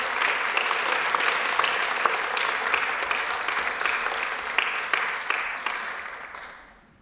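An audience at a final of a verbal jousting contest applauds the speakers: sustained, fairly distant clapping with scattered sharp claps that gradually thins and fades out at the end.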